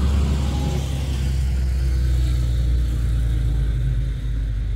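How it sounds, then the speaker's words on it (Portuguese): A truck rumbles past on a road, a steady close engine drone with low-frequency rumble lasting throughout, no voices over it. "deixa passar esse caminhão aqui"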